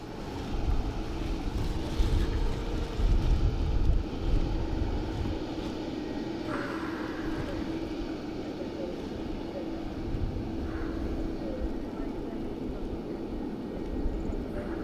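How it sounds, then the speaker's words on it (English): An inbound airplane approaches Dublin Airport as a steady, moderate engine rumble in the distance, and brief voices are heard over it. "That is our next inbound aircraft."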